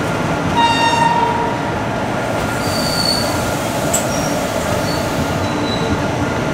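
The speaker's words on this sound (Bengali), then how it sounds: "আপাতত ট্রেন ছেড়ে বেরোচ্ছে, হালকা হালকা বৃষ্টি পড়ছে" Kanyakumari Express pulling out of a station in light rain, with sustained high wheel squeal and steady rolling rumble close by, plus faint brief high tones, and no voices.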